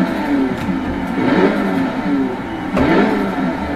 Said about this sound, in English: let's give it a little rev test.